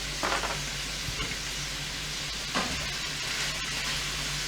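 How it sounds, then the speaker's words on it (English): Rice being stirred in a hot pan for a stir fry, a steady frying sizzle with a few scraping stirs, close and alone, with no talk. "Let me give this rice a stir real quick."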